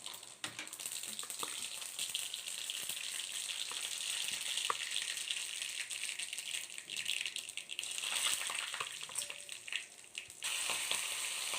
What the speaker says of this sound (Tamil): இப்போ கடுகு போட்டுக்கலாம்.